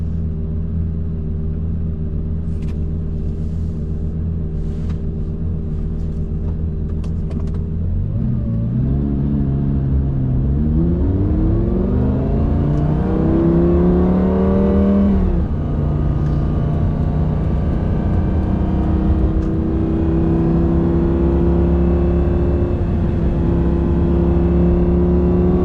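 A Lamborghini Gallardo with a six-speed gated manual drives steadily, then accelerates hard with a rising engine note through a gear change, and the rumble keeps up loud and close throughout, with no talk.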